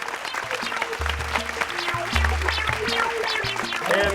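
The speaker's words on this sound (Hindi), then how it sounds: "बच्चों बजाओ जोर से ताली।" A group of children claps loudly and steadily, with scattered voices and chatter mixed in close by.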